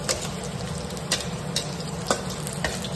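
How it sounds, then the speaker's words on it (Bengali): Onion and chilli frying in a pan for dal, a steady close sizzle with occasional sharper clicks and scrapes from stirring throughout. "এখানে পেঁয়াজ লঙ্কা ভালো করে ভেজে নিচ্ছি"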